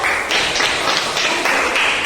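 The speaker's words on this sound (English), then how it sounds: "Clap for her." Schoolchildren in an English class clap for a classmate, a loud, close patter of many small hands in quick rhythmic bursts, with no talking.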